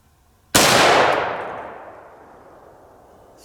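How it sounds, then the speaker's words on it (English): A single loud rifle shot fired through a 3-port muzzle brake, with a sharp, close crack followed by a long, fading echo that rings out outdoors. "And we'll shoot here. This is with the 3-port brake."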